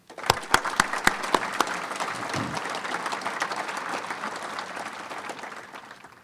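Audience at a youth football banquet applauding a coach: a few sharp, close individual claps open the clip, then fuller applause swells and slowly fades.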